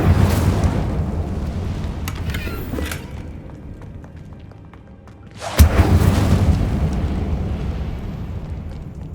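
An Incendio fire spell cast in Hogwarts Legacy bursts out as a sudden loud whooshing blast midway, followed by a sustained roaring rumble over an ongoing low game soundscape.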